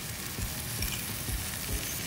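Rice noodles with spring onions frying in a hot wok at a street food stall, a steady dense sizzle with soft periodic scraping thumps of stirring, no voices.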